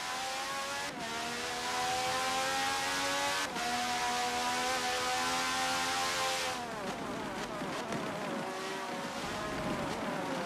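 Several IndyCar-style racing car engines scream past at high revs, pitch sweeping down as each car passes, with a dense cluster of engines roaring by midway, loud and continuous.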